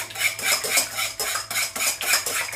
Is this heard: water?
no